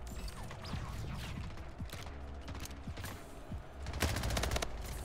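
Gunfire in the video game Portal 3 comes as rapid bursts of shots and clicking mechanical sounds over a busy game background. It stays fairly quiet, and a denser cluster of shots lands near the end.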